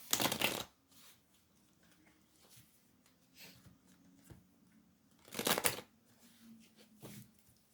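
Tarot cards being shuffled in two bursts of crisp riffling, one at the start and one near the end, with softer card handling between them. The sound is close and quiet against a faint background hum.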